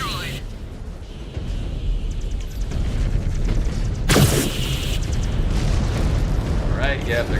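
A destroyed enemy mech blows up in MechWarrior 5 Clans with a loud, rumbling explosion that bursts out suddenly midway, over a continuous low roar of battle and engine noise, with voices talking around it.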